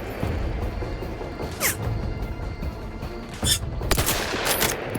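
Gunfire during combat in The Outer Worlds 2: a few distinct sharp shots stand out against a steady backdrop of game noise and rumble. The reports are moderately loud and close, spaced irregularly across the moment.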